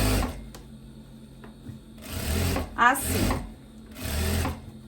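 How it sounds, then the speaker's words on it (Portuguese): Sewing machine topstitching over the side seam of a long dress with puffed sleeves, running in two or three short bursts between pauses, close by, with someone talking over it. "Agora, a gente vai fazer um pesponto aqui, ó, em cima do recorte da lateral"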